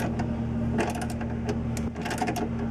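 A socket turns to tighten a rivet nut tool while a backing plate is installed, giving a quick series of close mechanical clicks and ratcheting ticks over a low steady hum.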